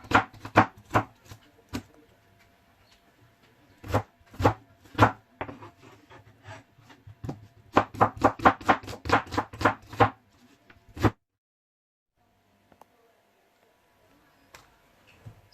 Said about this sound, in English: So the next thing I'll be doing is to slice my green onion and red onion.